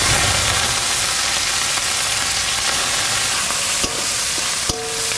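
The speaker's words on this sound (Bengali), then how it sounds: "এই মাছগুলো আমি দিয়ে দেবো এবার তেলের উপর।" Dried lote fish dropped into hot mustard oil with bay leaf and cumin in a wok, a loud, dense, continuous sizzle close by, with a couple of sharp clinks near the end.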